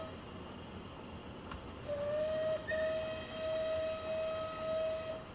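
A simulated steam locomotive whistle from a Merchant Navy class engine, Clan Line, in Train Simulator 2020 gives a couple of fairly faint, sustained tonal blasts over low background rumble.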